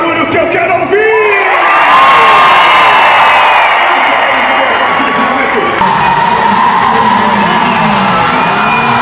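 A large crowd at an outdoor car event cheers, whoops and shouts together, a loud continuous roar of voices with children's yells mixed in and no pause across the whole stretch.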